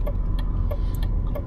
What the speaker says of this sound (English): Yep, that's the sound of a BMW signal.